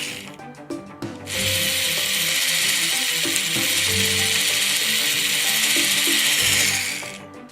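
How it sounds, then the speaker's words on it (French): A Play-Doh Dr Drill N Fill toy dentist drill whirs steadily for about six seconds after a short lead-in, its loud mechanical ratcheting buzz sounding close and continuous before it stops. "Et on va utiliser bien sûr la fraise."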